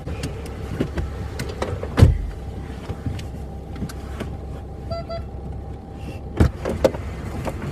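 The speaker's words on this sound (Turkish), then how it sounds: "Ya Bedo bana araba sürmeyi öğretir misin?" A car driven by a learner: an idling engine rumbles steadily inside the cabin with scattered clicks, thumps and a short electronic chime, no speech.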